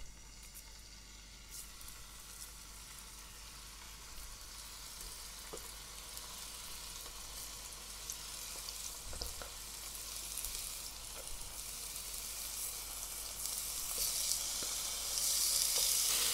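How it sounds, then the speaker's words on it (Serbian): Pork fillet sizzling in two spoonfuls of hot oil in a frying pan, a continuous close hissing crackle that grows gradually louder and busier toward the end, with occasional pops and scrapes. "Na zagrejano ulje spuštam meso."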